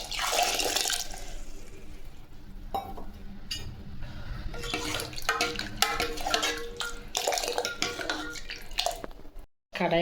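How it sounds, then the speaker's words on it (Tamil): Water poured into a ground tomato mixture for chutney, a wet splashing and trickling that comes in bursts with brief pauses and a few clinks of a vessel, close and fairly quiet, with faint talk at times. "இப்போ நம்ம எடுத்து வச்சுருக்கிற தண்ணி இதில் ஊற்றிக்கலாம்."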